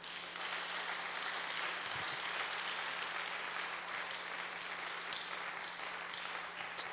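Church congregation clapping together in acclamation of Jesus, a steady, dense applause that carries on evenly for several seconds at a moderate distance with a faint low hum beneath.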